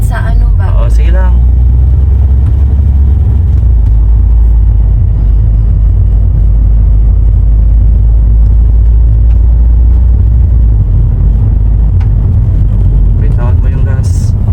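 A car in motion during a driving lesson gives a loud, close, steady low engine and road rumble inside the cabin, with people talking over it.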